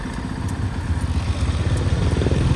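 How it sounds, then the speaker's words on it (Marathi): A motorcycle engine runs close and loud with a throbbing, uneven chug as a gear is shifted without pressing the clutch, a faint clatter riding on the rumble, no speech. "विदाउट क्लच दाबता गेअर टाकला"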